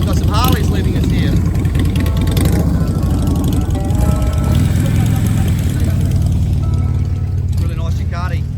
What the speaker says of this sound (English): Motorcycles, got some Harleys leaving us here.